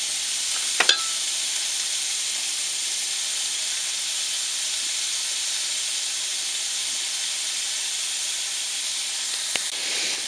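Scallops, tomatoes and mushrooms sizzle steadily in a pan inside a truck cab, a constant close hiss of frying with a couple of brief clicks near the start and end.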